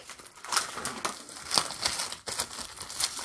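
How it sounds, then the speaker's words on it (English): Plastic wrap is peeled and torn off a new tarot card deck, giving close, crisp crinkles and crackles in irregular bursts with no talking. "just going to unwrap this here"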